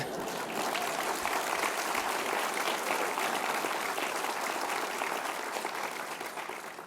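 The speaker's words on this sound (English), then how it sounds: "he deserves a round of applause for that" An audience at a medical association's annual meeting breaks into sustained applause, a dense wash of many hands clapping that stays steady and loud before easing slightly toward the end.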